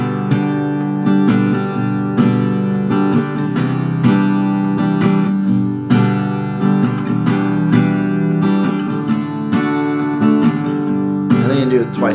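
Steady beginner-style strumming on an acoustic guitar through the chords of a song, with even, rhythmic strokes continuing throughout, close and full.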